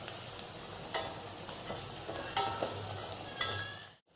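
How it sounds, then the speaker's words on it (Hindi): Noni leaf pakoras deep frying in hot oil over a low to medium gas flame, giving a steady close sizzle and bubbling with a few brief clinks and stirring sounds, no talking. "गैस के फ्लेम को लो टू मीडियम रखना है आपको पकौड़े फ्राई करते समय"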